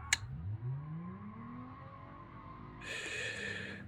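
An in-game car engine in BeamNG revs up in a rising whine after a sharp click, then a higher harsh roar kicks in near the end, moderately loud.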